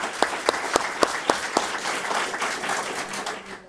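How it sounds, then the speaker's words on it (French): Applause from an audience at a Canadian Heritage funding announcement, with distinct claps at first merging into a steady round of clapping that trails off toward the end. "Je pense que ça mérite une bonne main d'applaudissement."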